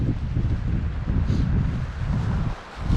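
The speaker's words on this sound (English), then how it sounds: "Wind, there's so much wind." Strong wind buffets the microphone beside a mountain stream during fly fishing in the Eastern Sierra, a loud steady low roar that dips briefly near the end, with no voices.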